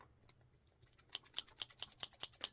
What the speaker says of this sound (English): My scissors aren't the greatest.